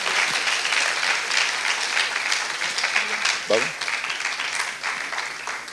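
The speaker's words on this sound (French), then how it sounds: "On peut l'applaudir." An audience at an innovation awards ceremony applauds a prize winner, steady dense clapping from many people that tapers slightly toward the end, with voices and a brief whistle-like cheer mixed in.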